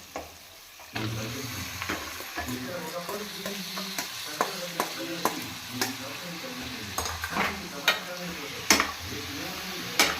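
Chicken livers fry in a pan with mint, a steady close sizzle under repeated scraping and clattering stirs that click and knock against the metal throughout.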